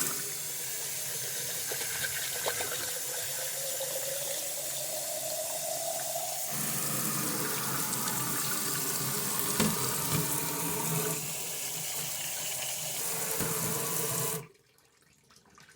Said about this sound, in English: So I'm going to rinse it a couple times.